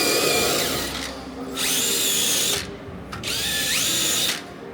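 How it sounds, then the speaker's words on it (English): A wire wheel on a power tool scrubs a silicone bronze weld on a metal fuel filler panel, two bursts of harsh, high-pitched whirring grind with a short gap between them, close and loud with no talk. "you hit it lightly with a wire wheel. So I'm going to do that really quick"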